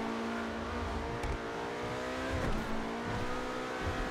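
The Obey 10F, an Audi R8-style sports car in GTA 5, drones at steady engine revs with harmonic tones rising slightly, loud and continuous with no voices.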